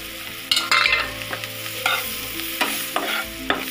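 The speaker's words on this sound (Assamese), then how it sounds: "আৰু বেঙেনাখিনি দি দিছোঁ।" Eggplant pieces fry in a pan with onion and chili, a steady sizzle broken by repeated loud scrapes and clatters of a spatula stirring, close and with no voices.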